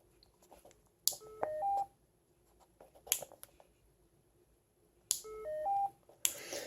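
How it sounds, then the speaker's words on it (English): Short electronic beep sequences from Mpow electronic shooting earmuffs powering on, two bursts of rising tones separated by soft clicks and handling noise, quiet and close in a still room. "the indication that I've been turning it on"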